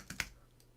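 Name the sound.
typing on a computer keyboard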